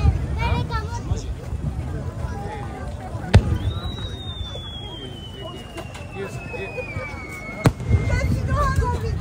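A fireworks display at the Tamamura fireworks festival in Tamamura town, with two sharp distant bangs several seconds apart and a rising whistle between them, over nearby crowd chatter and conversation.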